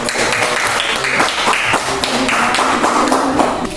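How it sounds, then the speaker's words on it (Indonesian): Quick, dense clapping from a classroom audience rewarding a student group after a geometry presentation, a steady loud patter lasting the whole stretch with faint voices underneath. "berikan aplaus dulu"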